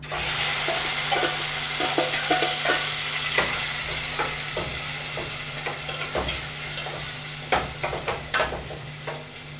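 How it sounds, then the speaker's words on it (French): Onion frying in hot oil in a pan at a hotel kitchen, a loud steady sizzle close by, punctuated by scattered scraping stirs and clicks, with no voices. "Il y a de l'huile. Nous versons de l'oignon."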